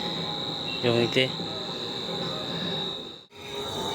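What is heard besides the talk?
crickets chirping at night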